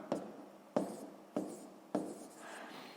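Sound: writing on a board or paper during math lesson

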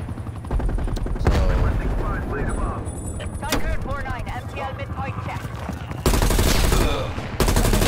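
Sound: XM4 rifle gunfire in a Call of Duty video game

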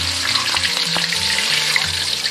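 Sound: deep-frying green and red peppers in a wok

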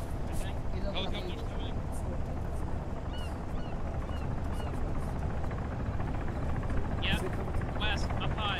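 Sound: helicopter flying overhead

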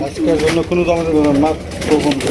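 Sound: pigeons cooing

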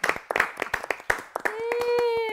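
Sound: audience clapping

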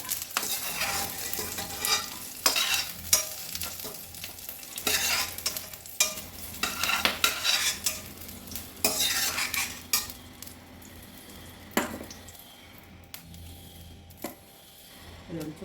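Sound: green chillies frying in a kadai pan

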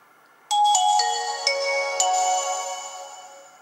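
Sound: Nokia 5130 XpressMusic phone startup sound

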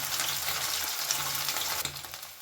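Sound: amudi fish frying with turmeric

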